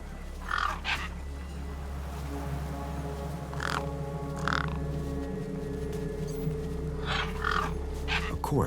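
Crows cawing in the video game Beyond a Steel Sky, several harsh calls in short bursts at irregular intervals over a droning ambient music bed.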